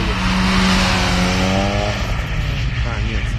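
Drift car at a winter drift battle, its engine climbing in a loud revving whine as it slides past, with tire noise and someone talking over the sound.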